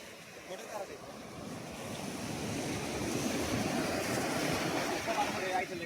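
Sea waves wash onto the beach at Kanyakumari, a soft, steady surf hiss that gradually builds and lingers, fairly faint and without speech.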